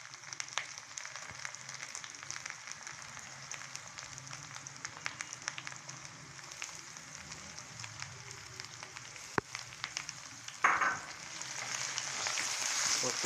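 Onions frying with ginger and garlic paste in a pan, a soft continuous sizzle with faint scrapes of stirring, then a louder burst of frying near the end.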